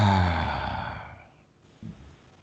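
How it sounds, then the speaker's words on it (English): A long, slow, deep out-breath released like a relaxing sigh during a breathing meditation: loud and breathy at the start, then fading steadily over about a second and a half, followed by a brief soft breath noise. "the out breath should be like a sigh. Long, slow, relaxing, end of day out breath."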